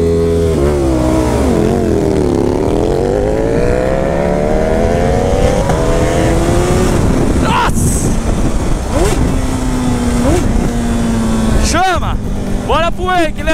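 A Honda CB1000 motorcycle engine revs up and down in rising and falling sweeps, loud and close, with people talking over it.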